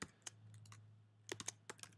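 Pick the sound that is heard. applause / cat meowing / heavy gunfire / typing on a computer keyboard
typing on a computer keyboard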